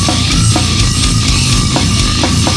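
Dense, heavily distorted slam death metal with low chugging guitars and pounding drums, loud and continuous throughout.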